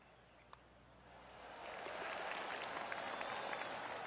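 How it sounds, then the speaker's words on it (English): Golf claps from the gallery in a golf video game. A quiet, distant stretch gives way to a swell of soft, scattered crowd clapping that holds steady at a moderate level. "I can hear the golf claps around the course."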